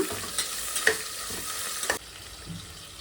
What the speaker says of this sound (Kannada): ಹಸಿಮೆಣ್ಸಿಕಾಯಿ ಹಾಕೋತಾ ಇದ್ದೀನಿ. 1-2 ನಿಮಿಷ ಇದನ್ನು ಬಾಡಿಸೋಣ.